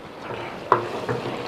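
Cut potatoes frying in a pot for a potato, peas and carrot curry, a soft steady sizzle broken by two quick scraping stirs, close and fairly quiet.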